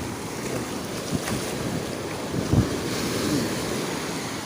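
Ocean waves surging and washing in, mixed with strong wind buffeting the microphone.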